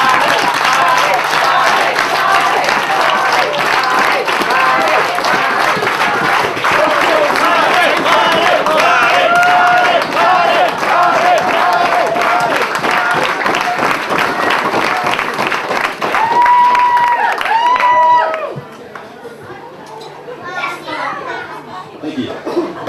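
Wedding guests break into loud, sustained applause with cheers and chatter filling a reception room, the clapping continuing for about eighteen seconds before fading into quieter voices.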